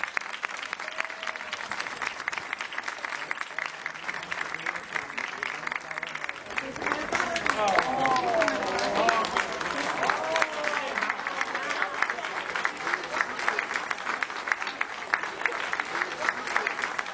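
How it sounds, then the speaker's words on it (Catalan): A crowd applauds a group of artists with sustained clapping that builds noticeably louder partway through and carries on steadily, with faint voices and cheers mixed into the applause. "Per tots ells un aplaudiment superfort."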